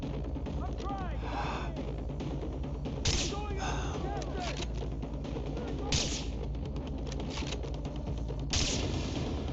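Three sharp gunshot blasts from Far Cry 3 ring out a few seconds apart, over steady background noise and continuous talking.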